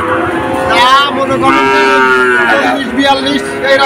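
Cattle and calves at the Monirampur cattle market in Bangladesh moo loudly and close, several long drawn-out calls overlapping over low market murmur.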